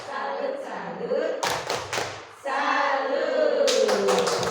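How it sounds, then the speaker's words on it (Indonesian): A seminar audience joins in rhythmic tepuk salut clapping, bursts of sharp hand claps in a patterned beat alongside chanting voices in an indoor hall. "kita tepuk salut lagi untuk Ibu Sri Rezeki. Tepuk salut."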